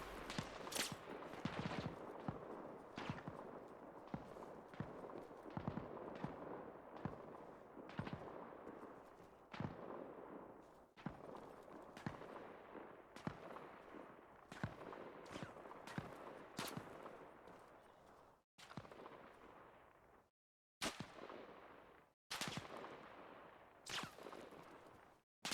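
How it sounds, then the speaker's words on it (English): Gunfire in the video game Arma Reforger on PS5: repeated sharp shots in irregular bursts, some rapid and clustered, others spaced out, fairly quiet overall with brief silent gaps near the end. "Someone else is shooting at me that I can't see."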